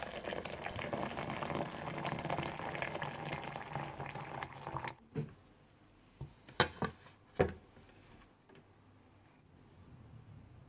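Synthetic braiding hair, X-pression and Hot Braid types, is dunked in boiling water: a steady bubbling roil for about five seconds, then quiet with a few sharp splashes and knocks.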